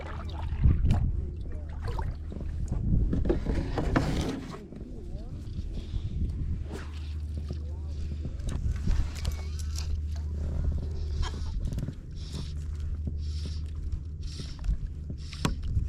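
Kayak paddling during inshore fly fishing near mangroves, with steady water swishes and drips from the paddle, a low hum and wind underneath, and occasional knocks against the hull throughout.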